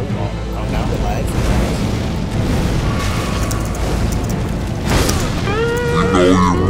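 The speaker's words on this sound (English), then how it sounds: "Bang! And an explosion, right?" An explosion from Messmer's attack during a boss fight in Elden Ring, deep booming blasts and rumbling bursts mixed with game effects, loud and close, with a voice talking over parts of it.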